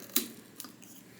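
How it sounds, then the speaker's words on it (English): Sharp Cricut scissors snip through a candle wick, giving two quick, faint cuts about half a second apart, close by, with quiet room tone around them. "very, very sharp scissors because I don't have a wick cutting tool yet"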